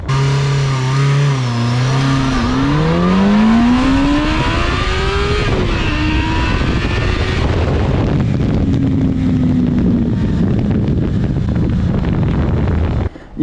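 A Yamaha FZ6 motorcycle accelerating hard from 0 to 100 km/h, its engine screaming loud and close as revs climb through several gear changes, heavy wind roar throughout.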